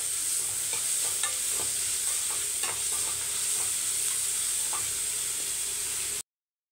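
Onions frying for a restaurant-style meal maker gravy, stirred around a pan with a quiet, even sizzle and irregular scraping and tapping of the spoon, close up with no speech, cutting off abruptly into silence.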